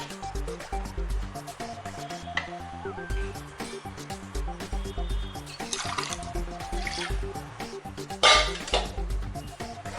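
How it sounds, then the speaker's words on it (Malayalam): Water is poured into a pan of kozhukkatta dough, trickling and splashing against metal amid clinks of the vessel, with a steady low hum from the kitchen underneath and a few louder splashes near the end. "കുറച്ച് വെള്ളം കൂടെ ഒഴിച്ചു കൊടുക്കാം"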